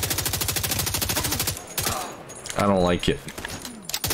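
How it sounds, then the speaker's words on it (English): Rapid automatic gunfire in The Division 2, with a fast even stream of loud close shots for about a second and a half, then scattered bursts, while someone speaks briefly in between. "We're getting shot from both sides."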